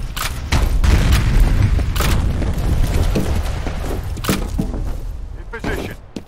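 A grenade blast in the first-person shooter FEAR Combat during a capture-the-flag match, a loud, heavy boom with rumbling thuds and mechanical clatter that fades over several seconds, with voices calling out during it.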